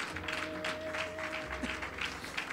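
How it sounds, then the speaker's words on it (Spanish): A church congregation claps together after a call to applaud the Lord, a soft, steady patter of many hands heard at a distance with a low sustained tone underneath. "Dale un aplauso al Señor con todo su corazón."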